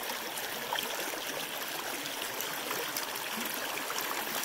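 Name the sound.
creek water flowing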